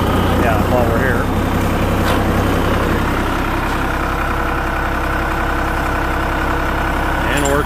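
A John Deere 1520 tractor runs with its PTO engaged, giving a loud, steady low engine drone that carries on without a break, with someone speaking over it.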